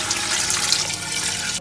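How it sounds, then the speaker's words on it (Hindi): Water pours into a soup pot for carrot and potato soup, a brief, loud, continuous splashing stream that cuts off abruptly at the end. "1 लीटर में पानी डाल रहा हूँ"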